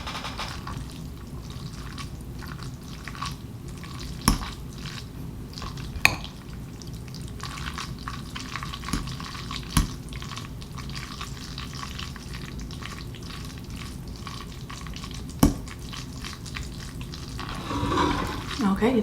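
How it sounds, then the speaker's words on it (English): Spaghetti is stirred right next to the microphone, giving a continuous wet, squelching slurp broken by several sharp clicks of a utensil against the dish. "some of y'all like that mixing sound, so let me put this close to the microphone"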